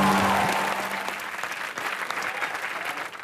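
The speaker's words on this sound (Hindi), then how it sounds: "तालियां।" Studio audience applause at a comedy show, a dense, steady clapping that starts loud and eases slightly over a few seconds.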